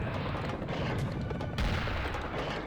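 Rapid bursts of video game gunfire crackle continuously, with a heavier boom partway through, dense and unbroken like a firefight.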